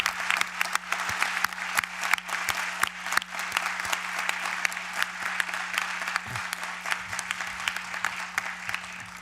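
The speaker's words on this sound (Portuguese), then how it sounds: "E eu quero primeiro pedir uma salva de palmas para o professor Jorge Miguel" Steady applause from an audience at a book launch on civil code reform, honoring professor Jorge Miguel, with many hands clapping in a continuous patter at moderate volume.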